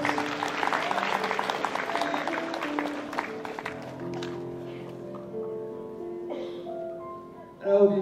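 Audience at a magic-and-horror stage show intermission claps for a performer, a busy crackle of hands in the first half that thins out while sustained musical tones carry on, ending in a brief loud burst.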